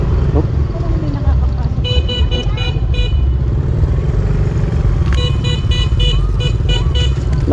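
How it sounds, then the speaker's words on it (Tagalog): Motorcycle and car horns beep in repeated short toots over a steady engine and road rumble, with people talking throughout. "Lakas ang busina mo, nakakabingay."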